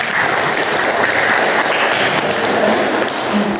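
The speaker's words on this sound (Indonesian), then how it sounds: "Oke, kasih tepuk tangan." Students in a classroom clapping together in steady, dense applause that holds at an even loudness for a few seconds with no talking over it.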